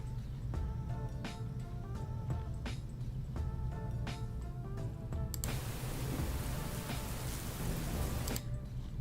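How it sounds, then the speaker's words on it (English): Recorded rain noises play at a moderate level, a steady hiss of falling rain with scattered drop patters over a low rumble, growing denser and brighter partway through, with no voices. "y'all want to listen to some rain noises?"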